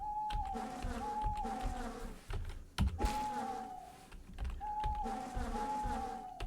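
Bees buzz in the video game Dawn of the Mexica, a repeating, droning hum that rises and returns over a busy game backdrop, with rapid clicking mixed in and no talking.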